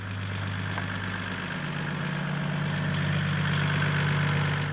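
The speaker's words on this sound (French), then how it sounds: "Voilà sa voiture, un luxueux 4x4 qu'il conduit lui-même." The engine of a luxury 4x4 idles with a steady low hum and rumble that holds evenly throughout, heard alone with no talking.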